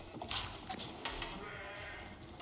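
Sheep in a strategy video game bleat in short, scattered calls over a busy, steady game background, moderately faint.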